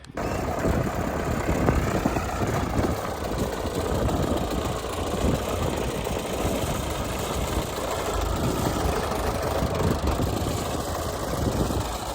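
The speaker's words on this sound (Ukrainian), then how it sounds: "Працює, вони зараз розпочали сіяти сою." A tractor engine drones steadily and loudly while pulling a mounted Superia 3000 Pro seeder sowing soybeans in a field, a continuous rumble without breaks.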